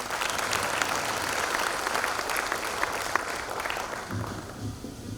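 An audience at a BNI Vizag networking conclave claps for itself, producing a dense, loud wall of applause that runs steadily for about four seconds before thinning out toward the end.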